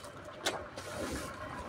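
A car goes by at close range on a hillside road near an organic garden, a low engine hum and tire rush building steadily over a brief moment against outdoor background noise.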